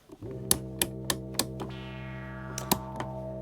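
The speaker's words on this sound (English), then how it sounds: "So that is a sine wave." Sustained electronic tone from a synthesizer, steady and moderately quiet, with a bright sweep entering midway and a run of sharp clicks scattered on top.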